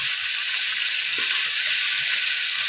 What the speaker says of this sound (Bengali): হলুদটা দিয়ে সিঁদুরটা এবার একটু ভেজে নেব।